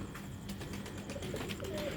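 Old-line Sialkoti pigeons cooing in a loft, soft repeated low coos mixed with faint bird chirps over steady background noise, no talking.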